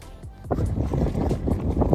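Wind buffets the microphone during an outdoor night run, a loud low rumble that swells after the first half-second and stays gusty throughout.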